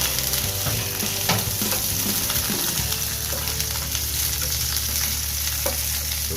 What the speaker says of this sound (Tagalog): So, gisa muna natin, typical na pag-igisa.